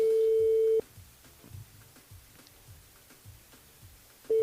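A telephone line gives a steady single tone that cuts off, then faint clicks and low rumble for a few seconds before the tone returns as a radio host places a call.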